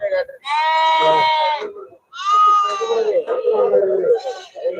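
Sheep bleat loudly and close by on a Tamil farm, long wavering cries one after another, with some talking in Tamil mixed in.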